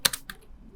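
Typing on a computer keyboard: a quick burst of three or four crisp, close keystrokes, then near silence.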